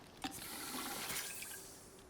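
A player drinks water in the survival game Icarus, a soft continuous liquid gurgle and pour with a brief splash at the start, fairly faint and alone.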